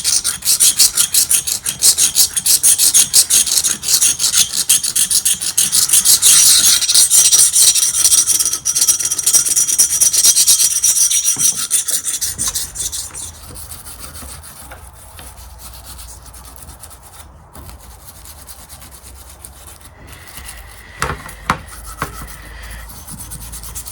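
Steady, close rasping as softened paint is scraped from Kawasaki Z550GT motorcycle parts, continuous for about twelve seconds before fading to quieter, sparser scrapes and a few knocks.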